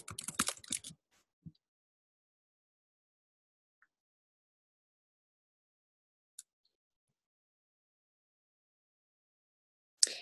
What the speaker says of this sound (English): I'm going to change this one to neutral and type in neutral again